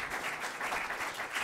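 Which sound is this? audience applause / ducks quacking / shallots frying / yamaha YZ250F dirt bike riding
audience applause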